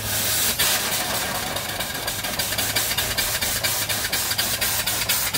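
An antique live steam mill engine running on steam with its petcocks open, giving a loud constant hiss under steady rhythmic chuffing beats that sharpen into regular pulses, close by with no talk.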